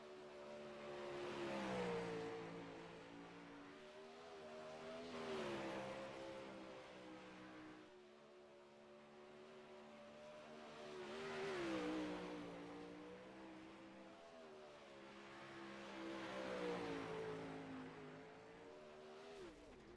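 Dirt-track race cars run hot laps, their engines swelling and fading as they sweep past at a distance about every five seconds, a continuous faint roar with rising and falling pitch.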